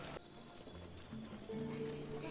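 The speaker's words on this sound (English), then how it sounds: "It's just horses in an open field." Horses roam an open field in The Legend of Zelda: Breath of the Wild, with soft hoof clops and a brief whinny over quiet game music tones.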